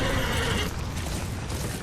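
A horse whinnies in the video game Darksiders Warmastered Edition, a loud, full cry that holds for under a second and fades into dense in-game rumble and ambience, with no talk over it.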